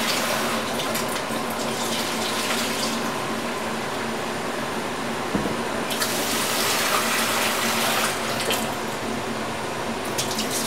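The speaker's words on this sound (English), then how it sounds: "Wash the rice." Tap water gushing steadily into a vessel while rice is washed for an Indian dish, a loud continuous splashing stream that holds for about ten seconds with small sloshing bursts.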